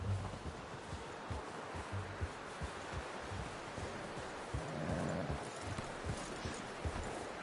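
A horse in Red Dead Redemption 2 shuffles and steps in place while being hitched, soft irregular hoof clops and rustling over a quiet outdoor ambience, with no clear speech.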